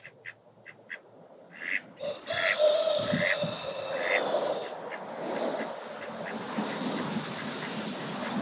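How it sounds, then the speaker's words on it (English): A duck quacks in a short run of calls close by, heard among household background sounds with faint movement and no talking. "It's the cutest duck in the world."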